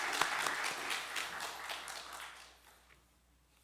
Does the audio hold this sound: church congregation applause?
yes